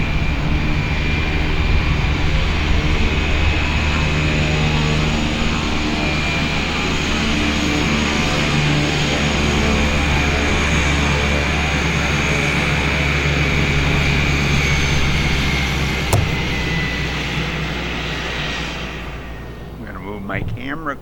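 A propeller aircraft flies near a runway at a small Minnesota airport, its engine a loud continuous drone that holds steady for about twenty seconds before fading. A person talks over it.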